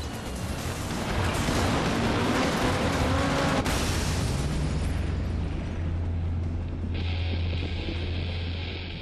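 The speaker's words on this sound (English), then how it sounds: "And the crashes really do look spectacular." A car crash in the MotorStorm racing game roars as one loud, dense burst of crunching impact and engine noise. It settles into a steady low rumble with a high hiss.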